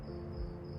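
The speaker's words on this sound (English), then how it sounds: "listening to the crickets outside." Crickets chirp outside at night in a steady, thin, continuous trill that stays even and moderately distant, with a low hum underneath and no voices.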